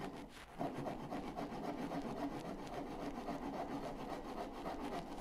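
A hand saw rasps back and forth through wood in steady, even strokes, cutting relief kerfs for sliding dovetails; close, continuous and alone after a brief pause at the start.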